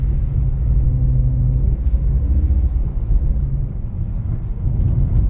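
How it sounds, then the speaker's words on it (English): A BMW's engine roars at rising revs while drifting on a snowy winter course, a steady loud low rumble heard from inside the car with no talk. "getting into higher revs now."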